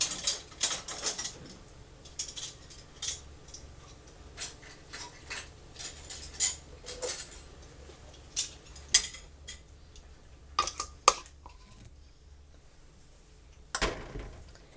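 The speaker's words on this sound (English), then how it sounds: "Put our lids on." Metal canning lids set onto hot jars of canned beef and gravy in a home kitchen, a run of light clinks and taps at irregular intervals, close and fairly quiet, with a sharper clatter near the end.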